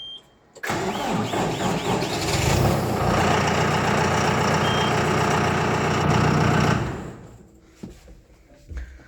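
A diesel tractor engine, on a tractor fitted with DEF, cranks and fires up, then settles into a loud, steady idle before cutting off near the end.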